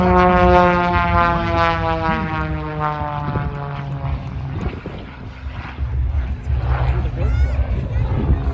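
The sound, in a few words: propeller airplane doing aerobatics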